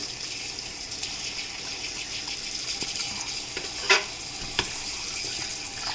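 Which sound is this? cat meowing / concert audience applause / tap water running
tap water running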